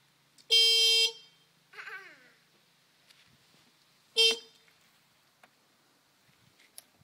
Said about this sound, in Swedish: Tuta lite kanske.